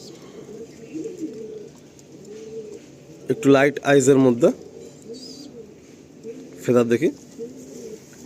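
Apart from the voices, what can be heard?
pigeons cooing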